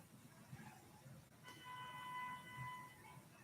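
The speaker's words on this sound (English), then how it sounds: "You guys hear the honking out there?" Several vehicle horns honk outside at a distance, a steady tonal blare starting partway through and holding for about two seconds over low background rumble.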